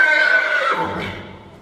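A horse in an arena gives one loud, close whinny lasting over a second, with a high quavering pitch that slides downward and fades at the end.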